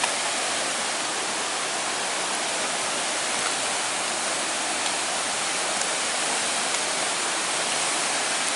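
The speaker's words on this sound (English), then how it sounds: "Little waterfall down here." Constant rushing of a small waterfall on Eagle Creek in Oregon, a dense steady roar that never lets up, close and with no voices.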